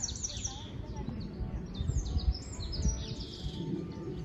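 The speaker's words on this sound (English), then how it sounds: "I can literally hear the birds singing" Birds chirp and sing in bright repeated phrases, moderately distant, in a medieval town in France, over a low rumbling background and some soft talk.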